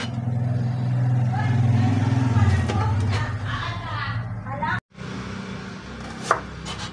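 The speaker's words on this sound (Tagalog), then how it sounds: "Iwa-hiwa lang po at ating pipigain para tanggalin yung ating or yung buto ng ating kalamansi" A knife slicing calamansi on a board, soft repeated cuts under a person talking, with a brief pause and one louder knock near the end.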